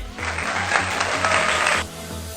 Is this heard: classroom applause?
yes